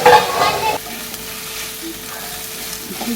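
Onions frying in sunflower oil in a pan, a steady close sizzle with stirring scrapes, louder at the start and then settling into an even hiss.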